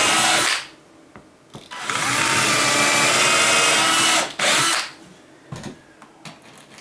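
A power drill spins a sharpened bit into material, loud sustained whining bursts with short pauses between them, starting and stopping several times close by.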